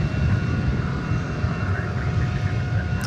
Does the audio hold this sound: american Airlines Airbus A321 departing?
yes